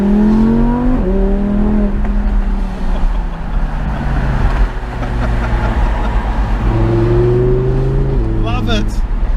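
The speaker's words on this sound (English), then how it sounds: "Let's hear that V10." An Audi R8 RWS V10 revs from inside the cabin with the windows down: a loud, close engine note climbs and drops through several gear changes, settles into a steady drone, then rises again.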